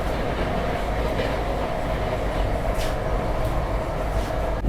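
A Hubli-Rishikesh Express rolls past on the adjacent track, heard from aboard a Vande Bharat train as a steady, loud rushing rumble with faint wheel clatter throughout.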